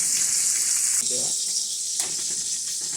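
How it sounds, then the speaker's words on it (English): Bacon frying in a pan for a breakfast sandwich gives off a steady, close hiss and crackle of sizzling fat, with a faint tonal hum and small clatters partway through. "the bacon is starting to sizzle up more"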